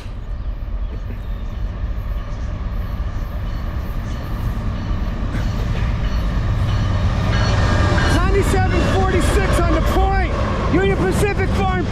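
A westbound freight train on the Lehigh/Conrail line through New Jersey rumbles past continuously, loud and close, on a Sunday morning, while people talk over the passing cars.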